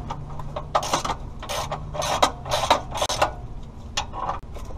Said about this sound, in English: I'm gonna have to unbolt it from up here and remove that front section.